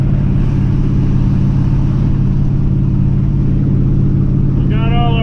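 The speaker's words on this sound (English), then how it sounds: "And there's overdrive. Heck yeah." A 1980 Chevy C10 truck engine cruising in overdrive, a loud steady low rumble from inside the cab, with a short whine near the end.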